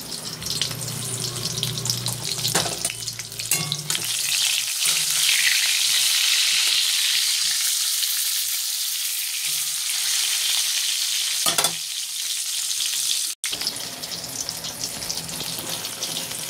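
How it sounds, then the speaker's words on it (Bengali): Eggplant slices seasoned with salt and turmeric sizzle steadily in a hot pan, a loud continuous frying hiss with bursts of spattering and brief stirring clatter, no voices. "দেখো বেগুন ভাজা হয়ে গেল"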